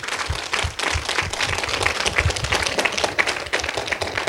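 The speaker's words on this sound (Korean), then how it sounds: "큰 감사의 박수를 보내주시면 감사하겠습니다" An audience at an indoor gathering applauds steadily: dense, even clapping at moderate loudness fills the whole stretch with no talking over it.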